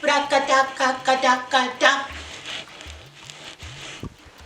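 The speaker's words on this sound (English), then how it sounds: "The signal, when you play it at the edge of the drum." A djembe signal played at the edge of the drum, using slaps and tones: a quick, sharp run of ringing strikes in a fixed rhythmic phrase, close and loud, then fading into quieter room sound with a few soft low thuds.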